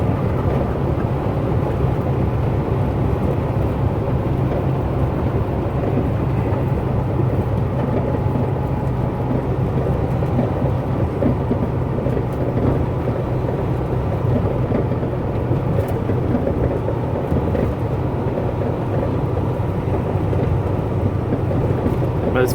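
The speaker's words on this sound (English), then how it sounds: "you can hear how loud my truck is, and I do have the windows up right now" Loud, steady low rumble of a truck engine in American Truck Simulator, heard from the cab with the windows up, droning continuously with no breaks and no talking over it.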